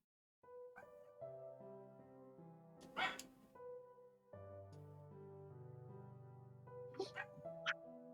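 A dog barks in a video game, giving several short yips and whimpers with a sharp bark near the middle and a couple more near the end, over tonal game music.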